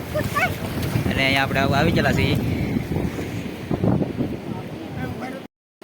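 Wind and surging sea water at a shore under heavy rain clouds, a loud steady wash with gusty buffeting, while someone talks over it throughout before a sudden cutoff.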